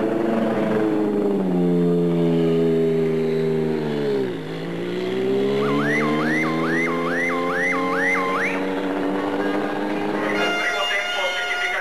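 Formula One single-seater driven hard on a circuit, a loud engine whine rising in steady pitch, dipping sharply as it slows and then climbing again, while a voice talks over it.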